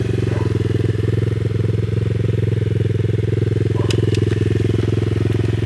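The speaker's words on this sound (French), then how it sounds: "Éteins ta moto." Motocross dirt bike engine running close by at a steady, loud idle for the whole stretch, its low rumble continuous and unbroken.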